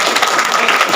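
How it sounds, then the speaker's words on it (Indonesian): Loud, dense clapping from a crowd of students at a campus orientation event, a continuous burst of applause lasting about a second. "Ya, tepuk tangan."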